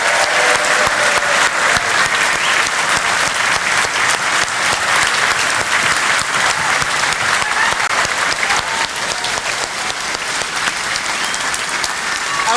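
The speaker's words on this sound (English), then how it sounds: "Let's have another round of applause for our fantastic candidates" Dense, steady applause from a large audience at a Brexit Party rally in Frimley, sustained throughout with a few scattered cheers and no talk over it.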